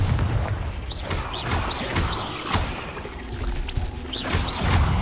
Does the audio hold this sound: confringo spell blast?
yes